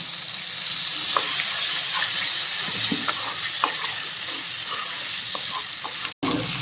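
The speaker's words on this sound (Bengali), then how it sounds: "এবার আমি এর মধ্যে সামান্য জল দিয়ে দেবো" Cauliflower curry masala sizzling and frying in a pan as a little water goes in, a steady broadband hiss with small stirring clicks throughout, close and fairly loud, cutting out briefly near the end.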